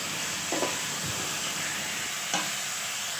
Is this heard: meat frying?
yes